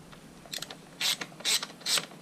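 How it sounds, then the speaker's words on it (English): Ratchet wrench clicking while working on a dirt bike, a few quick bursts of sharp pawl ratcheting close up, with short pauses between strokes. "It's called a ratchet."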